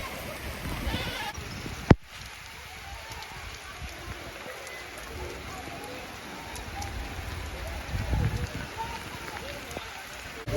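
Rain patters steadily on surfaces in an African village, with a sharp click early on and faint bleating-like voices of children running in the rain in the background.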